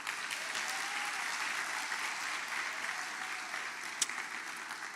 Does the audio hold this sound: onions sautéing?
no